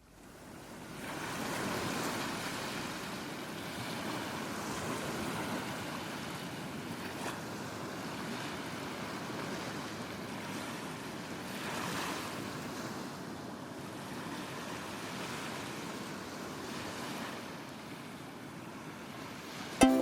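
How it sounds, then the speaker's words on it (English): Ocean waves breaking at Rockaway Beach, New York, a continuous broad wash of surf swelling and receding over twenty seconds, with some wind rumble and no voices. "I recently found a recording of the waves there that is very precious to me."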